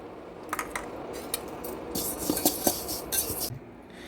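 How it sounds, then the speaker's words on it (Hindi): Sesame seeds roast lightly in a pan for ladoos, with quiet scraping and gritty rattles as they are stirred, plus a few sharper metallic clinks against the pan. "तो चलिए थोड़ा तिल भी भून लेते हैं"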